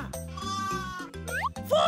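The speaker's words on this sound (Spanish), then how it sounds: "¡Oveja!" A cartoon sheep bleats a few times in a children's animal-naming song, wavering bleats heard close and loud over cheerful background music.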